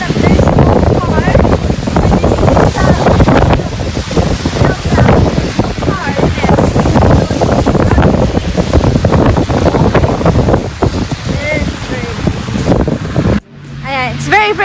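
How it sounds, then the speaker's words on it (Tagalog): Strong storm wind gusting at a home, heavy roaring buffeting across the microphone throughout, loud and close, with a person speaking in the clip. "It's very crazy storm. It's just windy."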